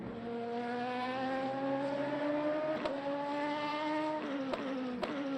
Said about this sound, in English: And the Mustang is so loud whenever you go past it.